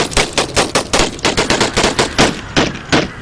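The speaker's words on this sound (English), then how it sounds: "Now these things are kind of like little machine guns." Rapid bursts of Gatling gun fire in an American Civil War battle game, a loud, dense rattle of repeated shots that keeps going without a break.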